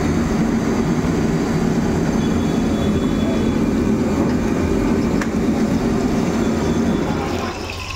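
Roaring gas burner at a Chinese food stall in a Mumbai colony, a loud steady rushing roar held close for several seconds before easing slightly at the end, with no talking over it.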